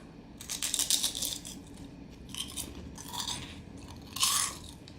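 Crunchy Taco Bell cinnamon twists being chewed up close, with irregular bursts of crisp crunching and brief pauses between bites. There is no talking.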